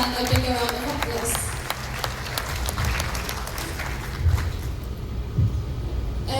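An audience applauding at a career event, steady clapping heard close and fairly loud throughout, with a few louder bursts and some voices mixed in.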